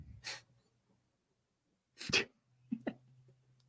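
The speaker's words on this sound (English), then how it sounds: "I got barking dogs everywhere." Dogs barking at home in the background of an online sports talk call: three short, sharp barks spaced apart, the last two close together, fairly faint with no talk over them.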